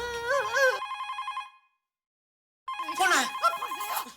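A phone rings with a trilling electronic ringtone under overlapping voices, stops for about a second of silence, then rings again as people keep talking nearby.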